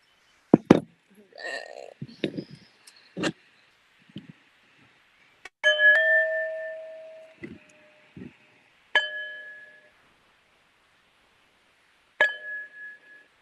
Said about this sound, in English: And I'm going to just beat the sound bell.